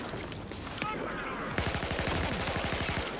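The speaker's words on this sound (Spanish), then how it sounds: "¿Por qué me dispara ya a mí?" Battlefield 4 gunfire in a Domination match, starting as scattered shots, then a rapid automatic burst of loud close shots in quick rhythm, with heavy ambient battle noise throughout.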